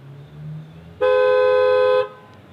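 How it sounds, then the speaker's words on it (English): Horn of a 2022 Hyundai Santa Cruz SEL Premium AWD pickup, set off with the key fob panic button: one loud, steady blast lasting about a second, close by, with quiet surroundings before and after. "Let's go ahead and push that panic button and sound the horn."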